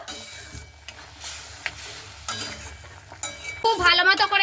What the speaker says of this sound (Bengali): এবার কিন্তু আমি সেই টমেটো আলুটাকে দিয়ে দিচ্ছি খুব ভালো মতো করে কিন্তু আমি নাড়াচাড়া করে নিচ্ছি